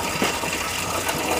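Coolant gushing and splashing out while a water pump is replaced on a 1995 GMC Sierra, a steady close watery spatter with no pause.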